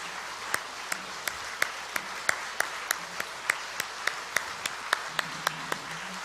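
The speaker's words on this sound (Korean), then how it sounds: "우리 박수 한번 할까요?" A church congregation applauds in rhythmic unison, sharp evenly spaced claps repeating about every third of a second, moderately loud and steady with faint voices underneath.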